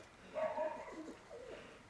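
A racing pigeon, numbered 66, coos softly in a loft, a brief low throaty murmur repeated twice, faint and close, with no talk over it.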